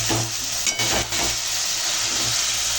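Chicken goes into a pan of well-fried spice masala and sets off a loud, steady sizzle and frying hiss, with a couple of brief stirring bursts, close up and without voices.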